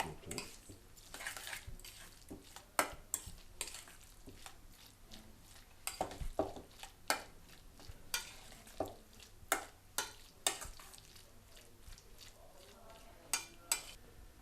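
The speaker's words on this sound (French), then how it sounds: "Alors, mélanger le tout." Ingredients mixed with fleur de sel in a restaurant kitchen, with irregular clinks and scrapes of utensils against a bowl or pan over a faint sizzle, and a little background talk.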